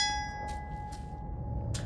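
A bell in the Gollum game fades out as a faint, sustained metallic ringing tone with shimmering overtones, heard alone and fairly distant amid low ambient hum, with soft rustles.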